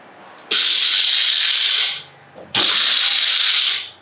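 A Wonderchef bullet mixer grinder chops nuts in two loud bursts of whirring motor noise, each about one and a half seconds long, separated by a short pause, with no talking.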